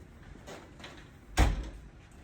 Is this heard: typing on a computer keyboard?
no